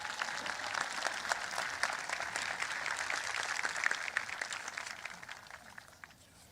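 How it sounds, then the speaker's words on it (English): Faint, distant applause from a graduation ceremony audience honoring a retiring director, a steady patter of many hands that thins out and fades near the end. "Please give her a round of applause."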